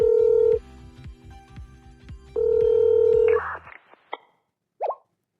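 A burner phone rings in Blue Archive with two long electronic ring tones separated by a gap, then a few short blips and clicks as it is answered, ending in near silence.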